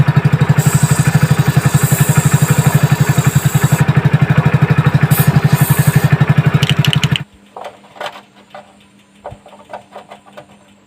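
A Hero Splendor motorcycle engine runs loud and steady with a rapid rhythmic throb, then cuts off abruptly, leaving faint scattered clicks and rustling.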